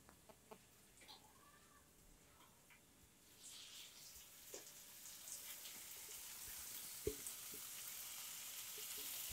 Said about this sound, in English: It's sizzling and